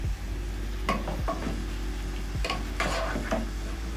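Pork wet fry is stirred in a pan, with a steady sizzling hiss underneath and several close scraping strokes and soft clacks of the utensil against the pan at irregular intervals.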